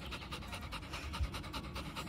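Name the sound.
dog panting in a garden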